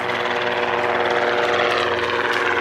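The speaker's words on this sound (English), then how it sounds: "There's a helicopter going over there." A helicopter's rotor thrums loudly and steadily overhead, a constant chopping drone filling the whole stretch.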